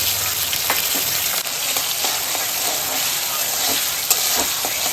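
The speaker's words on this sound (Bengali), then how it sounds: "ফোড়নটা হালকা ভাজা হলেই ক্যাপসিকামগুলো মা এখানে দিয়ে দেবে, তার সাথে দিয়ে দিল টমেটো।" Capsicum and tomato fry in a spiced oil tempering for a meatless, onion-free jackfruit biryani, giving a loud, continuous close sizzle with occasional stirring scrapes and no talk.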